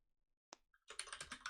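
Keys clatter on an eight-year-old ErgoDox EZ split keyboard by ZSA fitted with Cherry MX Brown switches: a single isolated tap, a pause, then a fast burst of close, crisp typing.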